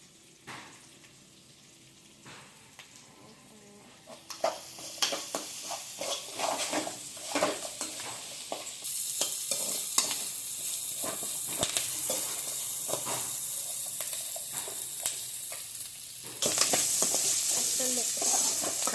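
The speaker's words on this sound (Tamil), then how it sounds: "நல்லெண்ணெய் ஊற்றி நல்லா வதக்கிடுங்க." Pirandai, adamant creeper, sautéing in sesame oil in a pan, a steady sizzle and hiss with scraping stirs that grows louder partway through, no talking over it.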